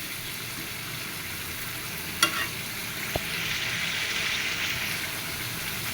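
Meat coated in spices fries in a pan with a steady soft sizzle, close and even, broken by a couple of sharp clinks from a utensil; no talking.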